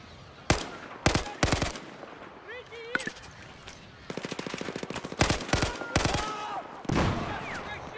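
Bursts of automatic gunfire and single shots crack out in the Battlefield 4 campaign battle in Baku, several loud volleys with a sustained rapid rattle in the middle, mixed with in-game voices and effects.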